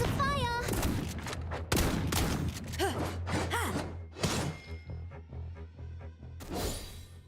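Video game gunfire sounds as scattered loud shots and crashes mixed with music, tonal effects and a voice. Bursts come irregularly and are close, with a heavy final volley near the end.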